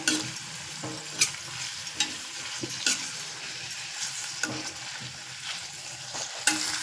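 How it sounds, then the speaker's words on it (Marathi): Sliced onions and green chillies sauté in hot oil for a fish curry, giving a steady close sizzle with scattered sharp crackles and occasional stirring scrapes. "आता हे सर्व तेलावर परतवून घेऊया"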